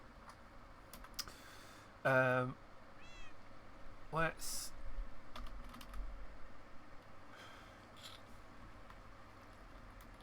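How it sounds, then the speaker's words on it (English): Quick, light computer keyboard typing clicks sound in short bursts, faint and close, alongside someone talking and a couple of cat meows. "So you can see typing away here."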